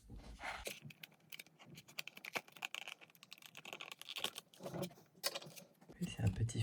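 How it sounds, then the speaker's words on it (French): A new replacement screen for an iPhone 8 being unwrapped, with crinkly plastic and packaging rustles and small clicks coming in close, irregular bursts. "on va maintenant déballer le nouvel écran"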